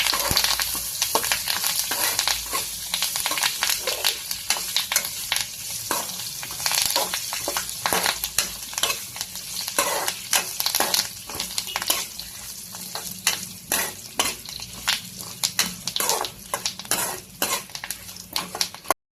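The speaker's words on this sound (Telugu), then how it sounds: "తర్వాత కరివేపాకు, మరీ మాడిపోయేదాకా కాకుండా లైట్గా ఫ్రై చేసుకోవాలి." Curry leaves frying lightly in a pan for a dried red chilli spice powder: a steady, close sizzle broken by repeated scraping stirs and clinks of a utensil against the pan, with no talking.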